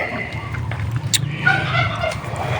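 A small flock of six ducks in a pen chatter and quack continuously at close range, a busy overlapping murmur of low calls with no talking.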